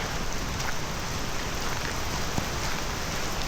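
Heavy rain pours steadily on a rainy day in Japan, a dense, loud, even hiss of falling water with faint scattered drip impacts and no voices.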